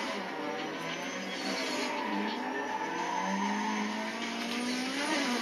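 Racing cars and squealing tires from a Need for Speed game on the Wii, a steady engine drone with drawn-out tire skids running through the whole stretch, loud and continuous with no talk.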